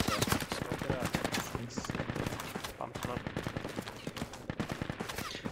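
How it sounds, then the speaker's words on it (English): Dense rapid gunfire from a video game battle, bursts of shots rattling continuously and loudly with no pauses, voices faintly mixed in beneath. "That's fire coming from 60."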